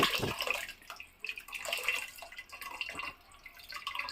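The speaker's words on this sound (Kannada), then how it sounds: "ನಾವು ಯಾವಾಗಲೂ ಈ ಥರ ನೀರು ಬಿಟ್ಕೊಳ್ಳೋದು ಹುಣಸೆಹಣ್ಣು ಈಗ ಬಿಡ್ತಾ ಇದ್ದೀನಿ" Water trickling and splashing over tamarind in a bowl in a home kitchen, a soft, close, uneven pouring and dripping sound at low level with no talk.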